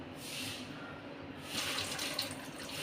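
Water being drained from rinsed basmati rice, a soft steady trickle and splash that swells into a fuller pour in the second half, fairly quiet and with no talk.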